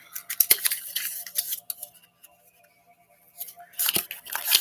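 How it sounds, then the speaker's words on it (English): A White Light Oracle card deck is shuffled by hand in short papery riffles and snaps, with a quiet pause between the bursts. "I'm going to shuffle with the White Light Oracle."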